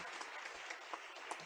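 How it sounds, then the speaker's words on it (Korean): A church congregation applauds after a musical performance at an Easter service. The clapping is brief and moderately faint, with scattered individual claps over the general patter. "여러분들 다시 한번 감사의 박수 한번 드립니다"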